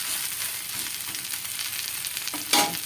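Vegetables fry in oil in a pan with a steady soft sizzle, ending in a brief louder burst of crackling and a clatter.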